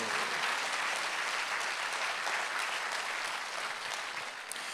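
A Korean church congregation at a Sunday worship service claps in sustained, dense applause that stays even and fairly distant before tapering slightly at the end.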